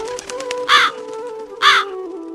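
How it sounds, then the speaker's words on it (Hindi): A black cartoon crow gives two loud, harsh caws about a second apart, close and clear, over a soft tonal music bed with light plucked notes. "एक काले कौवे को देखा"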